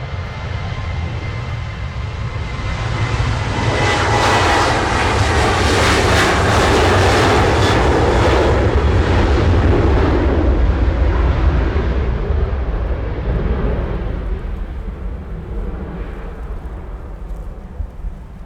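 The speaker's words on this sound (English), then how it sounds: "first departure from 23 left today. I can see a United on the taxi as well. Is he on the way out? Yes. 767" A United Boeing 767 departs from runway 23 left at Manchester Airport, its jet engines producing a loud, sustained roar that swells and then slowly fades as the aircraft climbs away, with no talking.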